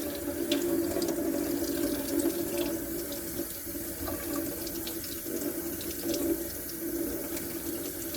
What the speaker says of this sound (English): you're going to just let the water run through the piece